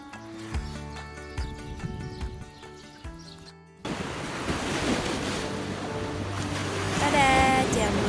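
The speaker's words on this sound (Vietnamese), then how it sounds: "Chiều hôm ấy sóng biển đánh khá là mạnh" Strong surf on the Red Sea beach at Eilat, waves rushing and breaking loudly in the second half with wind buffeting the microphone, after a quieter opening stretch of other sound.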